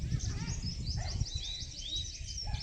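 Sparrows chirp in quick high bursts at moderate distance in a village mulberry orchard, light repeated calls scattered over low rumbling background noise.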